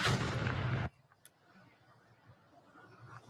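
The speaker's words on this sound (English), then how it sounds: "You can hear the sound of the explosion" A loud blast from a played news video, a dense broadband burst for nearly a second that cuts off abruptly, followed by low rumbling room noise and faint murmuring.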